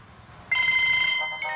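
A telephone rings with a bright electronic trill, a single ring that starts abruptly and repeats briefly, heard up close over a quiet background.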